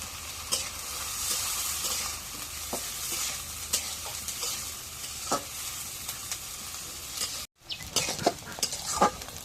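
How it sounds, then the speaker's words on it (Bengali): Chopped onion, chili and dried fish sizzle in hot mustard oil in a pan, a steady close frying hiss broken by stirring scrapes and clinks of a utensil against the pan. "শুটকি আছে, এখন তেলে আমরা ভেজে দিই।"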